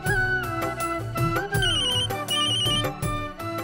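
A mobile phone rings with a melodic electronic ringtone, a loud, musical tune with layered tones playing continuously for a few seconds, with no talk over it.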